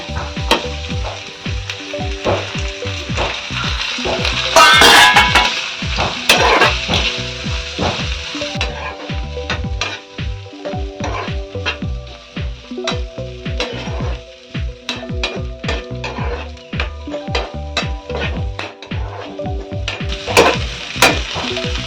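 Dry prawns sizzling in a pan with salt while a spoon stirs them, a loud steady frying hiss over a close, irregular clatter of scraping and tapping against the metal throughout.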